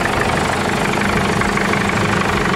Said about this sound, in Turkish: bakım yaptıktan sonra marşa basıyoruz.